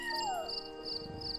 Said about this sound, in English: the only reason you know they're there at all is because of the meow